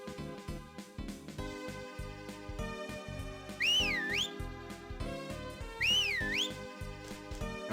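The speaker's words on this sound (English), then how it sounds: "One more whistle should do it." Two short rising-and-falling whistle melodies from Majora's Mask, played loud over the game's constant music loop, a few seconds apart.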